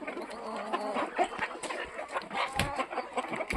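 Several chickens cluck and squawk close by, a busy overlapping chatter of short calls.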